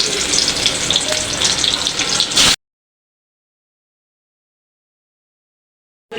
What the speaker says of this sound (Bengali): এখন আমি ইলিশ মাছগুলি ভেজে নিব।